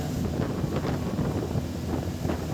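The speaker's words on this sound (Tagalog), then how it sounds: "Ano ng hangin oh." Steady wind from a typhoon rumbles against the microphone, a constant low roar with occasional stronger gusts.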